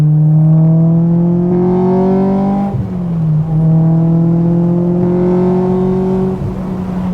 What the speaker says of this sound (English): the VTEC crossover is just shockingly obvious, and it really is a big change in engine note